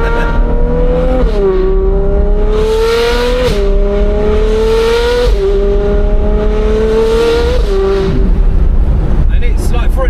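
McLaren 765LT with a naturally aspirated engine, no turbochargers, accelerating hard through several gears, loud rising engine note that climbs and drops at each upshift, close up from inside the car.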